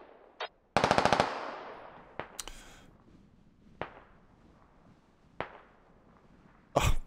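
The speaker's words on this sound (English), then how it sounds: "we just had close gunshots over here" Close gunfire in the tactical shooter game Squad: a rapid automatic burst near the start, then several sharp single shots spread through the remaining seconds, loud and nearby with no talk.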